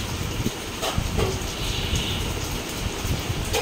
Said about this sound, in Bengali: এই দেখো না কিরকম জোরে বৃষ্টি হচ্ছে, এতেই বুঝতে পারবে।